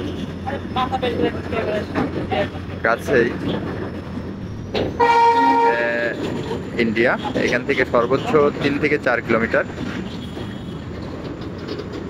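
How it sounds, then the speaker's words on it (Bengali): Freight train on a line near the India–Bangladesh border, heard as a steady rumble with a horn-like tonal burst around the middle, with someone talking over it throughout. "ট্রেনটি ধীরে ধীরে গতি বাড়াচ্ছে"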